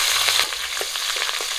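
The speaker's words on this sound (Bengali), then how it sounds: "মাছ ভাজার তেলেই দিয়ে দিচ্ছি কাঁচা লঙ্কা।" Green chillies sizzle and crackle steadily in hot oil left over from frying pabda fish, a close, dense frying hiss with small pops and no voices.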